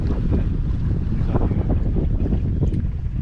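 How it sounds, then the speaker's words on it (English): A sailboat under sail with the engine off, moving at about 4.7 knots in a 6-knot breeze: steady wind rushing across the microphone over a low wash of water along the hull, continuous and fairly loud throughout. "so here is John actually enjoying doing some sailing without the engine on"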